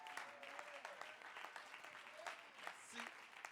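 Church congregation at a French-language prayer-week service clapping and cheering for the Lord, steady dense applause with scattered shouts, fairly faint and distant, continuing without pause across the whole stretch.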